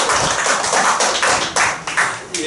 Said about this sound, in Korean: 한꺼번에 박수를 한번 크게 한번 쳐줄까요?